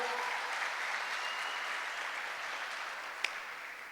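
Audience applause at a church conference in Asunción, a steady, dense wash of clapping that holds evenly throughout and fades slightly toward the end, with one sharp clap standing out near the close.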